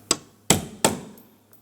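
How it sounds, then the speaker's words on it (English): A hammer strikes three times at a rivet in the interior door handle of a 2004-2008 Pontiac Grand Prix, sharp metallic blows, near, loud and unevenly spaced, each with a short ringing decay. "Now I'm just going to use a hammer."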